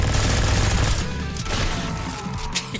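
Dense, loud gunfire from the indie shooter Revulsion, a game with over 70 guns including a minigun, sustained rapid shots blending into a continuous roar that thins slightly toward the end.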